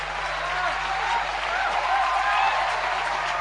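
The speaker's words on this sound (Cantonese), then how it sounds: "仲拍手掌添" An audience at a live comedy show in Hong Kong claps steadily, a dense sustained burst of applause with a faint hum beneath it.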